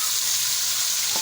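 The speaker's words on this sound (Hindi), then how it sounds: "उसी ऑयल में हम इसे प्याज़ों को भी फ्राई कर लेंगे" Onions fry in the same hot oil previously used for okra, giving a dense, even sizzle throughout, loud and close with no voices.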